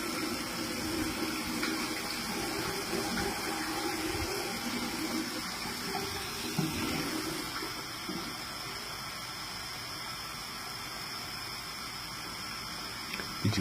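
Warm water pours steadily in a continuous splashing rush, close and even throughout, with a few small clatters near the end.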